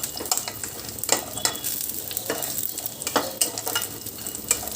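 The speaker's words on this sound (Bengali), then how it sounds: "এবার বড়িগুলো দিয়ে একটু লাল লাল করে ভেজে তুলে নিতে হবে।" Bori lentil dumplings fry in mustard oil in a wok, a continuous close sizzle broken by repeated scraping strokes of a spatula stirring them.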